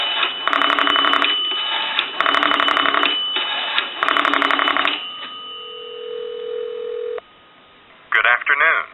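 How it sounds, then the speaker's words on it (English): A North Electric three-slot payphone bell rings on an incoming call in repeated bursts with short pauses, loud and close, followed by a steady tone and a brief voice at the end. "We know it's ringing on an incoming call."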